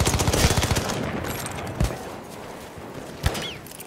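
Enemy machine gun fire in a First World War shooter at the Battle of Tahure opens with a rapid rattling burst, then fades to background combat broken by two loud, isolated shots.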